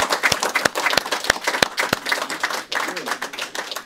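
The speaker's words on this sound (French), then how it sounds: "on peut applaudir" Lively clapping from a small audience, with several sharp, distinct claps standing out over a thicker wash of applause that gradually loosens and fades.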